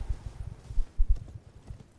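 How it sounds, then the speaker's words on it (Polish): Hooves of a horse in the video game Elden Ring clip-clop at a steady walking or trotting rhythm, low and fairly close, with no talking. "Konia."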